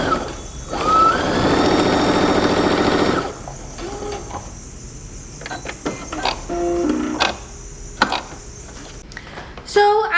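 A Baby Lock Soprano sewing machine runs in a dense, steady mechanical whir for about two seconds, then stops, leaving quieter clicks and handling noises with a few brief sharp taps.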